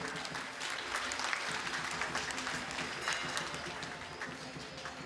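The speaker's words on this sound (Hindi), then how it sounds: "जोरदार ताली हो जाए।" An audience claps steadily and loudly throughout a stage ceremony in Mauritius where Shankaracharya Hemanand Giri is presented with a certificate and picture. The dense applause holds for the full length without pause.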